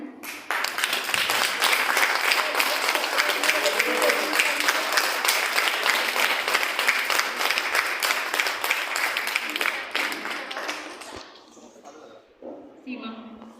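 Audience applause at a Teacher's Day event in Uttarakhand, a dense, sustained burst of many hands clapping together that carries on loudly for about ten seconds before tapering off to scattered claps.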